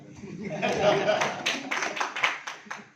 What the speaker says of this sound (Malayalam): ഇതൊക്കെ കൈയടിക്കാം